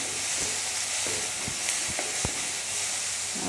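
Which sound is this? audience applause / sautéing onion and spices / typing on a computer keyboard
sautéing onion and spices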